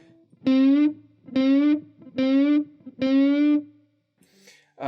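Four sustained electric guitar string bends from a solo, each bent upward in pitch with a distorted tone, separated by short gaps; a brief noisy scrape at the end.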